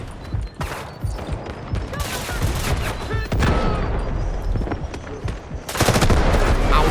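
Loud, rapid bursts of automatic gunfire in Delta Force crackle almost nonstop, with a few heavier shots and a voice briefly under the din.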